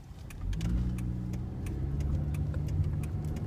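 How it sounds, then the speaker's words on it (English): Road traffic with a car passing close by, its engine hum swelling and holding steady over a few seconds alongside faint ticking sounds, without any speech. "Traffic is wonderful."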